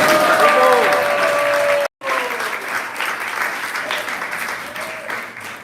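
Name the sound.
applause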